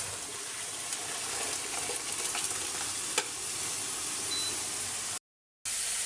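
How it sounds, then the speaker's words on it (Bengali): Dal gets tempered with fried garlic and onion, a close hiss of frying with light stirring clatter and a short scrape, before a brief gap of silence. "এখন ডালটা বাগার দিয়ে নিচ্ছি"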